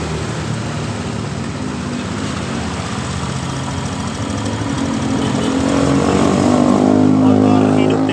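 Honda Vario 125 scooter engine starting and settling into an idle, a steady mid-pitched hum that grows slightly louder toward the end, heard close over a noisy background.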